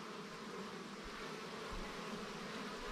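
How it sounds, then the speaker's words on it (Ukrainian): Honeybees fly around the hives of an apiary, making a steady, dense buzz that holds evenly throughout at a moderate distance, with no voices. "бджоли активно бачу, дивіться. Ну, Літають доволі непогано."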